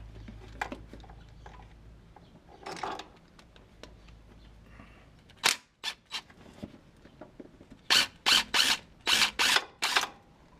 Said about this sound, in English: I am using my trusty magnetic spark plug socket.